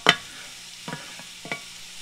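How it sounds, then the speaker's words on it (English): Onions and carrots sizzling and softening in butter for a shepherd's pie, with a few brief stirring scrapes in the pan over a quiet, close background. "It's good to hear that sizzle in it."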